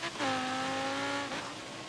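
An old school Ferrari in a video game brakes hard from high revs, its engine note dropping in a steady downward tone for about a second before settling into a quieter hum.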